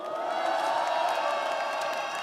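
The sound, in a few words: rally crowd applauding and cheering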